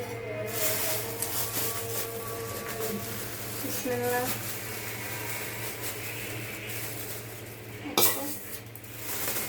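Raw rice being measured into a pot for chicken biryani, with light clinks of a metal cup against the pot and a rattle of grains as they pour in, under a voice talking.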